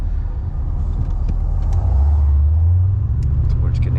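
A motor idling and then throttled to about quarter power, running smooth and steady with a deep low rumble that rises slightly in the middle, with faint wind and handling noise over the top.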